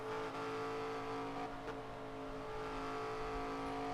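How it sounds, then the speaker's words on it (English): A race car in the FARCA Premier Series at a three-wide moment has its engine hammered on and off throttle, a loud, steady droning roar with small surges, close and without talk. "You hear Ryan hammering and battering on that throttle."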